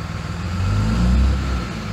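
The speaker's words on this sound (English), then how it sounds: "Give it some more gas, it just spins faster." A car engine runs steadily while a jacked-up wheel spins freely on an AAM 11.5 anti-spin differential, Torsen or Eaton TruTrac type; the drone swells as the engine is given more gas, then eases slightly, loud and close.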